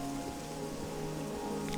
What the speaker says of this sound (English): Well, it's not really a storm, but it's all rain.